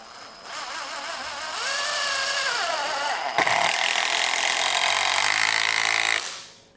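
A SKIL 12-volt impact driver sinks a wood screw: a whirring motor run that breaks into a loud, rapid hammering rattle for several seconds before stopping abruptly, close up and alone.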